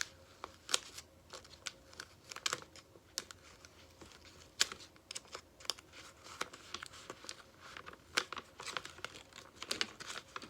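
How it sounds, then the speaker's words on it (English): Adhesive tape pressed and smoothed onto the corner of a paper squishy, a run of close crinkling paper and sticky tape crackles in irregular bursts. "Let's tape this corner down"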